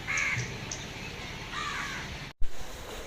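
Crows cawing before first light on a dark winter morning, a few harsh calls in quick succession with another burst later, fairly close, over quiet outdoor background.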